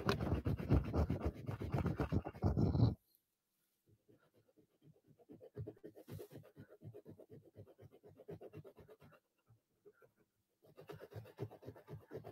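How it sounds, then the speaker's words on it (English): A microfiber cloth rubs down a leather shoe, giving a soft rhythmic scratchy swishing of quick back-and-forth strokes that pauses briefly, while louder handling noise opens the passage. "I just took a straight Shoe MGK on this microfiber cloth and I'm rubbing it down."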